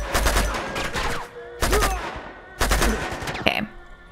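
Gunfire in the video game Uncharted, three rapid automatic bursts of loud, close shots, each lasting about a second with short gaps between them, and someone speaking faintly underneath.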